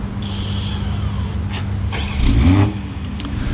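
A 2023 BMW M340i is started by remote start, giving a brief low crank and a swell of engine noise around the middle, then settling into a steady close idle with no talk.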